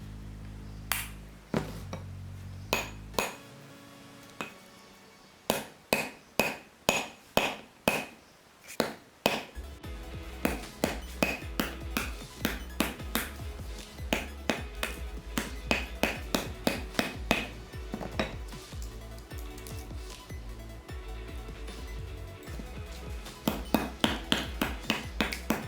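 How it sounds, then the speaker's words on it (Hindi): A hammer strikes a plaster of Paris egg again and again: sharp close knocks, at first spaced and ringing, then quicker and denser clacking as the plaster breaks, with no talk. "लेकिन फ़र्क ये है कि हम हथौड़ी से तोड़ रहे हैं इसको"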